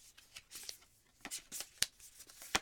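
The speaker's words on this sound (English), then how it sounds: "These are so weird. They are not that easy to shuffle." Close, quiet shuffling of stiff tarot cards, a run of soft riffling bursts and crisp snaps at irregular intervals, with no talk over it.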